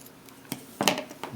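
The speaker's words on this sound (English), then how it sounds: "Using your scissors, you just kind of start trimming it by eye." A few quick, crisp snips of scissors cutting, close up, with a slight rustle between cuts.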